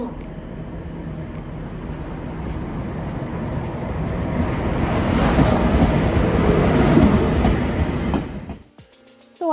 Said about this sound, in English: So I boarded the train.